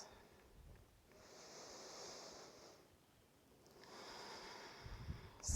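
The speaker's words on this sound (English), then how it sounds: "Take some deep breaths." Slow, deep breathing during a calm qigong session, two long airy inhale-exhale cycles, soft and close, with a faint noisy hiss and a brief rustle at the end.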